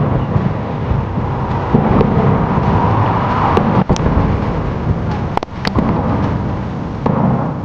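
Gunfire in an animated 1971 India-Pakistan war battle scene, a dense loud roar of overlapping shots and blasts with several sharp cracks standing out, no talking.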